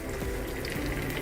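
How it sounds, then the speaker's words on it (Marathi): A little water is poured into a hot tempering for dhokla, a continuous close splashing gush that runs steadily and fairly loud for the brief moment. "यात थोडंसं पाणी घालायचंय, जास्त घालायचं नाही"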